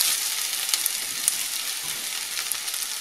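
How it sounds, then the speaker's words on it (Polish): Onion frying in two to three spoons of olive oil in a pan, a steady, dense sizzle that stays loud and close without a break. "Na patelnię wlewam 2-3 łyżki oliwy i wrzucam na nią cebulę. Cebulę podsmażam krótko,"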